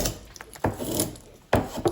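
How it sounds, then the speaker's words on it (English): A draw knife shaving a round wooden workpiece held in a jig, three or four sharp scraping strokes up close, each a rasping burst between short pauses. "I use a draw knife a lot."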